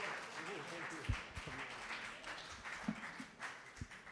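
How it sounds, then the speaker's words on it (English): At a Mill Valley community talent show, an audience's applause thins into scattered, uneven claps and fades as a voice talks over the tail end. "Give him a round of applause."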